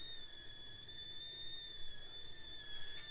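A steady high-pitched whistle with several stacked tones holds continuously over a quiet background hiss, a tea kettle on the boil.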